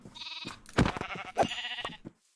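Sheep in the video game Minecraft bleating, two or three loud close wavering baas in quick succession, clean game audio ending in near silence.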